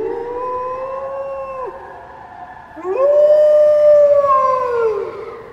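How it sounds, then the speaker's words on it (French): A wolf howls in the mountains, two long sliding howls, the first steady and falling away, the second rising sharply and louder before slowly trailing off, clear and fairly close against a quiet background. "Puis ce fut un hurlement dans la montagne."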